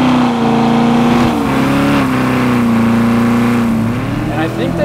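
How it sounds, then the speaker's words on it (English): A 2014 Chevrolet Corvette Stingray C7 sports car revs loud and close, its engine note holding a strong steady drone that rises and dips slightly, with a faint voice near the end. "a muscle car twang."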